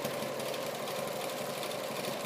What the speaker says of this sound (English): So now I'm going to zigzag stitch